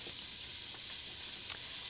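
Food sautés in a pan, giving an even, close frying hiss with a few faint stirring ticks and no voices.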